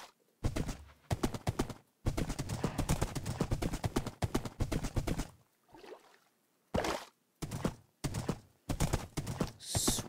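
Rhythmic clip-clop of horse hooves in Minecraft 1.17, fairly close, in bursts with short pauses as the horse crosses a swamp, over a steady game background.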